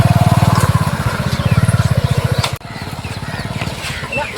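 An old motorcycle engine idles nearby with a steady, loud low-pitched thumping, then briefly dips and continues running unevenly.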